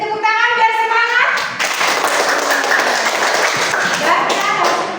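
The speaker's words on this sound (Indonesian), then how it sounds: "Beri tepuk tangan biar semangat." Classroom applause as a student group is called up to present, a busy patter of children's clapping with kids' voices and a teacher speaking over it.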